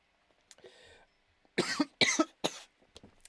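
Dry coughs from a person with a dry mouth, three loud harsh bursts in quick succession after some faint breathy sounds, close to the microphone.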